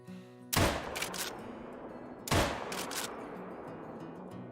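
Two loud gunshots with long echoing tails ring out about two seconds apart during a night hunt in a video game, with no talking.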